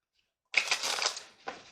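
Shadows Oracle cards handled and shuffled up close, a quick papery riffle followed by a shorter second flick.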